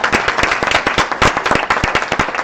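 An audience at a workplace improvement report-out meeting applauds steadily, many hands clapping in a dense, continuous patter with no talking over it.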